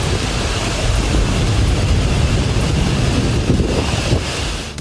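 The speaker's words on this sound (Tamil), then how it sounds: "ஹாரி புயல் தாக்கத்தால் பலத்த காற்று வீசியதுடன் கனமழை பெய்தது" Heavy rain and strong wind from Storm Harry lash the coast of Sicily, a dense, steady roar of downpour and gusting wind buffeting the microphone throughout, with no voices.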